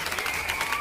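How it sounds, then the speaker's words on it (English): Wild applause from an audience at a televised accordion performance, a dense continuous wash of clapping held steady and fairly loud throughout. "Wild applause."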